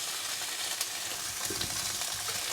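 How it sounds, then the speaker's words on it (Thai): Tofu frying in hot oil gives a steady, close sizzle with a crackling broadband hiss, holding even for a couple of seconds with small pops and no talking. "เอาไปทอดเลย"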